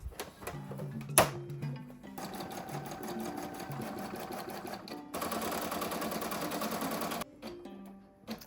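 An embroidery machine stitches through fur in rapid, steady mechanical bursts, its needle chattering close by with brief stops and restarts between runs.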